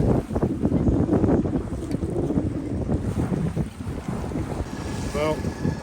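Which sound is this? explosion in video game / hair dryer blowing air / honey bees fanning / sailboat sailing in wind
sailboat sailing in wind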